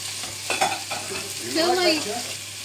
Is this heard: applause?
no